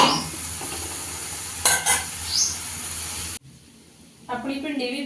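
Okra and onion fry in a pan with steady sizzling and a few stirring scrapes, quieting briefly before stirring resumes.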